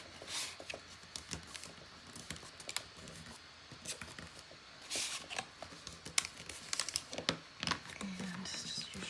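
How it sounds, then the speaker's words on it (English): Adhesive backing peeled away from chipboard, close crinkly tearing and crackling bursts in several short runs with pauses, fairly quiet and nearby. "Now let's take the backing off"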